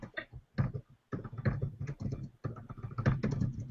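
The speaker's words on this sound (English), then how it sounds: "I'm just typing." Fingers clatter across a computer keyboard in steady bursts of close, quick key taps, with brief pauses between runs of typing.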